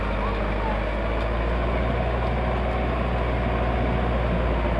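A Massey Ferguson tractor engine drones steadily and loudly throughout, a continuous low rumble with the wheels slipping under load and no distinct breaks.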